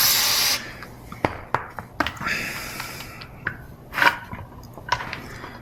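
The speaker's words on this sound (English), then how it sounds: "Give it a little bit of WD-40." WD-40 lubricant sprayed onto the tapped holes of an LS water pump, a short hissing spray burst at the start followed by scattered light clicks and taps of handling the part nearby.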